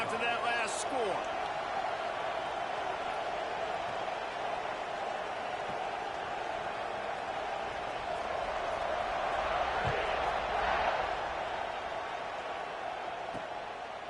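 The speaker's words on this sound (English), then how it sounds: "this crowd is buzzing after that last score" A stadium crowd buzzing at a college football game, California versus Auburn, as a steady, dense roar of many voices with a rise near the middle, heard beneath a play-by-play commentator's voice.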